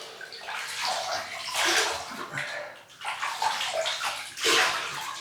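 Tap water runs and splashes into a basin while the face is wetted before a razor shave, a close, full rushing flow with surges and sloshing as hands move through it.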